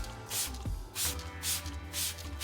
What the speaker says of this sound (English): I'm just going to spray this on all the bug stuff